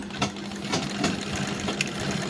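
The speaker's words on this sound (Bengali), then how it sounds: "আমি এখানে পিকো করছি" A picot sewing machine running steadily while stitching fabric, giving a continuous close mechanical hum with faint rhythmic knocks and a few brief ticks on top.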